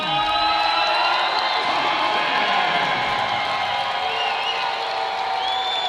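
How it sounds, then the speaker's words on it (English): A crowd at a Peak Fighting championship bout in Amarillo, Texas cheers and whoops loudly, a sustained roar with scattered shouts and some clapping. "The crowd going wild."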